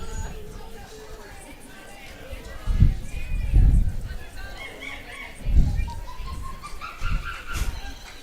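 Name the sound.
spectator imitating bird noises at softball game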